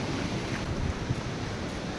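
Flowing water rushes along a deserted mountain road with trees on the route from Kedarnath to Sonprayag, a steady, even roar with no breaks, mixed with some wind.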